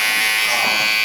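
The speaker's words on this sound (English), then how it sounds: "But if you take the corner of your clipper," An electric hair clipper trims a beard in a barbershop, a loud, steady close-up buzz with no break through the whole stretch.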